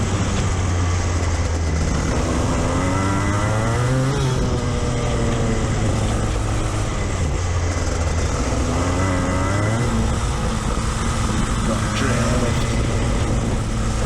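A go-kart engine drones loud and near as the kart rounds a corner during a TKC race at Athboy, its pitch dipping and climbing with the throttle, steady and continuous throughout.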